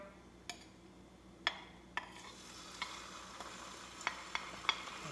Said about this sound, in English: soon as you drop them in hot oil, super hot, they're gonna burn on you